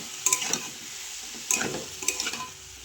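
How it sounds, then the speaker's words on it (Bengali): Taro stolons frying in a pan while being stirred, a steady close sizzle broken by three bursts of scraping and clattering stirring strokes. "এবার ভাজা হয়ে যাওয়ার পরে এবার লতিগুলো সব দিয়ে দিলাম।"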